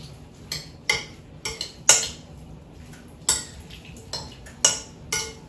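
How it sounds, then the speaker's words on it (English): Seasoned chicken and shrimp are tossed with a spoon in a bowl, giving a series of sharp, close clinks and scrapes of metal on the dish, irregular and roughly every half second, over a quiet background. "Let me get a fork and let's mix them around."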